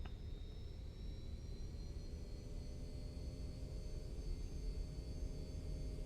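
MD-80 jet engines spool up for takeoff in a flight simulator, a steady loud broadband roar with a rising high whine that holds throughout, no voices over it.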